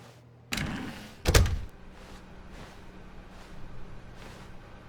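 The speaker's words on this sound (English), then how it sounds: "When Stanley came to a set of two open doors, he entered the door on his left." A door in the video game The Stanley Parable gives a sharp thump, then a heavier double thud a moment later, followed by a quiet, low room hum.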